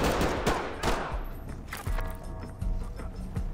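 Enemy gunfire in the tactical shooter Ready Or Not cracks out as a few loud, close shots and short bursts at irregular intervals, with faint mechanical clatter between them.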